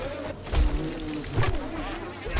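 Bees buzzing in the video game 7 Days to Die on PS5, a continuous droning hum with wavering pitch that swells and fades as the insects circle near the player.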